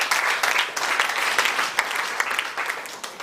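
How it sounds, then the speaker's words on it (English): An audience at a formal gathering claps in a sustained round of applause, a thick wash of many hands with small swells, holding fairly steady and loud throughout. "please, a round of applause for him"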